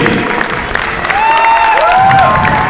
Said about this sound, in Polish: Drodzy Państwo, to nie są brawa godne dla zwycięzców.